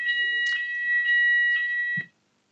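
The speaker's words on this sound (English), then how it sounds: "We have our regular Wednesday fire alarm." A council building's weekly Wednesday fire alarm test: a steady, piercing electronic alarm tone sounding continuously for about two seconds before cutting off abruptly.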